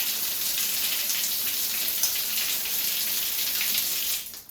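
Water spatters from an old shower head in a steady, hissy spray that holds constant for a few seconds before cutting off, close and alone without voices.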